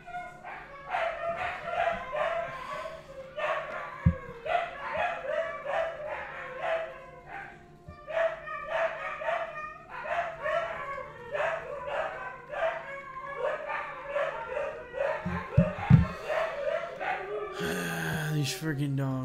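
Repeated sharp barks and yips from dogs, close and persistent, coming in uneven bursts over a low background hum.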